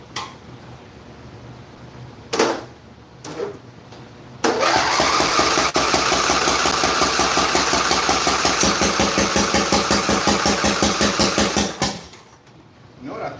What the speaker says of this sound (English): it sounds like it's backfiring through the intake